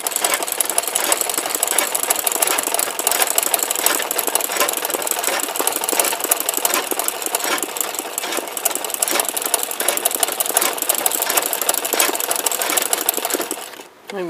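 Electric sewing machine stitching simple flowers, a steady, continuous mechanical whir running loudly and alone for about fourteen seconds before stopping abruptly at the end.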